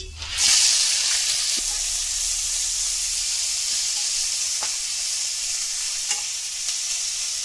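Diced carrot hits hot oil with cumin and ajwain in a pan for a winter vegetable dish, setting off a loud, steady sizzle that continues throughout with occasional stirring clicks.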